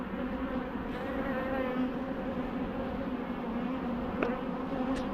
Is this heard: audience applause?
no